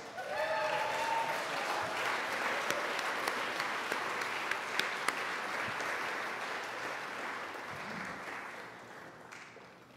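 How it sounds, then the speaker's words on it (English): Applause from an audience for award honorees at a mayor's arts awards ceremony, a sustained dense wash of clapping lasting the whole stretch and fading slightly at the end, with no voices over it. "Can we give them a massive round of applause, please?"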